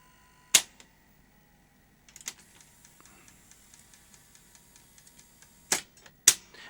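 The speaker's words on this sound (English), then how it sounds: "let's eject the tape" A Sony Beta SL-3000 portable VCR ejects its tape: a sharp mechanical clack, then a whirring motor run with faint ticking, ending in two more loud clunks as the cassette tray pops up, close and alone.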